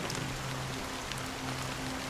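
Rain falls steadily in a Honkai Star Rail scene, a faint even hiss with a soft low hum beneath, continuous and unbroken.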